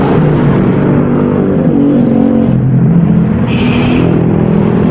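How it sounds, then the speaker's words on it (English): A motorcycle rides down a road at night in the Philippines, a steady close engine rumble and hum that carries through the whole stretch, with wind noise in the background and no talking. "Got a motorcycle coming down here towards me."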